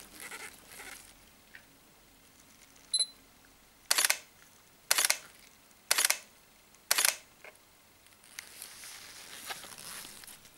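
A Sony a7 II camera shutter clicks crisply, one soft click followed by four loud, evenly spaced clicks about a second apart, then some faint handling rustle.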